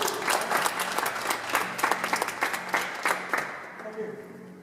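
Theatre audience at a French stage hypnosis show bursts into applause, a dense patter of many hands clapping that fades toward the end, with a voice talking over it.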